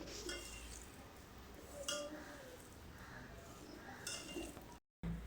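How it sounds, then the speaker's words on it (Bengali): Grated coconut being mixed with grated palm jaggery in a pan for coconut naru, soft scraping and stirring with occasional light clinks of utensil against the vessel, close and moderate, with a brief dropout near the end. "এবার নারিকেল কোড়ার সঙ্গে পাটালি খুব ভালোভাবে মিশিয়ে নিচ্ছি।"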